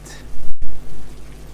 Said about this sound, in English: But it was acid rain.